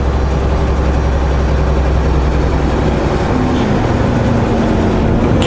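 A heavy truck hauling trailers grinds around a sharp hairpin bend, its loud, deep diesel engine droning steadily and close the whole time, with no talking.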